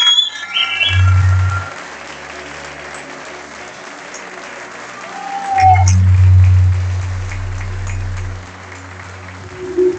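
Applause for the second-place finisher at the closing ceremony of a kayak surf world championship in Argentina, a broad crowd clapping wash with low droning tones and a swell partway through.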